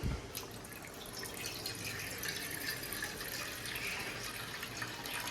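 Tap water runs steadily into a pot for two-minute Maggi noodles, a continuous close splashing and trickling stream with no talking.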